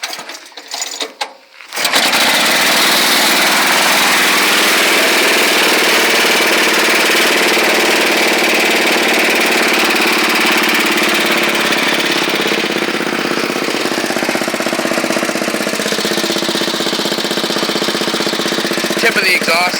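A Sears Custom 10XL garden tractor's small engine starts after a brief pause and then runs steadily and loudly at throttle, a constant close mechanical drone with a rough, knocking texture throughout.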